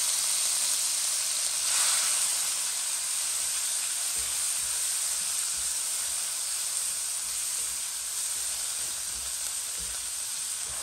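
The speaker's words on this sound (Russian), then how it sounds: "Таким же способом я обжариваю перец." Continuous bright sizzling of peppers frying in a hot pan, steady and close, with occasional faint clicks of stirring and no talking.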